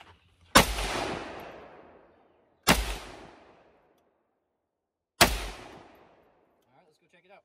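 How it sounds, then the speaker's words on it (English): Three loud SKS rifle shots ring out at a 25-yard paper target, each a sharp crack followed by a long, rolling echo that fades over about a second, with quiet gaps in between. "He's going to verify shooting the 25-yard paper at the bottom right target"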